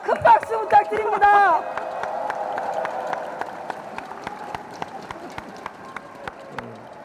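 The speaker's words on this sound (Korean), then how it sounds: "큰 박수 부탁드립니다." Audience applause at a Democratic Party national convention, starting after a brief burst of speech and then settling into a steady, moderately loud wash of clapping with scattered sharper claps, continuing beneath a commentator's voice.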